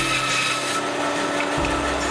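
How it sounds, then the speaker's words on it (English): A bandsaw slices a small piece of yellow plum firewood into thin strips, a close, steady high-pitched whine with rasping cutting noise, the pitch dipping briefly toward the end as the blade bites. "I start with a small piece of yellow plum firewood that I cut in thin strips on the bandsaw."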